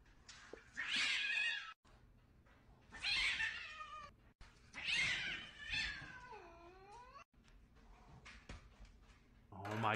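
An angry cat yowls in a video played on a laptop, three or four drawn-out caterwauls with rising and falling wails separated by brief pauses, fairly faint and heard alone.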